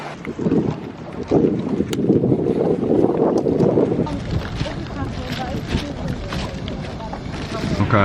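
A passenger boat heading to Koh Tao island rumbles with engine and water noise, buffeted by strong wind gusts on the microphone, while a person speaks intermittently over it.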